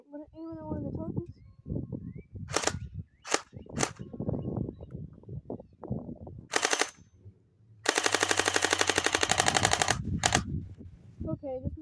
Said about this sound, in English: let me switch it from safety to fully auto, and shoot.